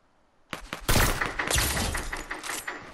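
A sharp sniper shot in a battle royale game cracks loudly and close, followed by a dense burst of crackling gunfire that decays over a couple of seconds.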